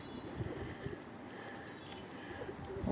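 Pigeons from a flock being trained outdoors in poor weather coo softly nearby in a few low, throaty pulses, with light rustling around them.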